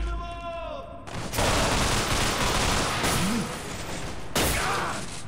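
Gunfire in Underhell, a Half-Life 2 mod: loud, close bursts of rapid shots starting after a second, a dense volley with a second burst later, and a brief faint voice between.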